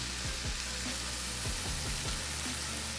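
Ground pork frying in a pan, a dense, steady sizzle crackling throughout at moderate loudness, with faint scraping stirs now and then and no talking.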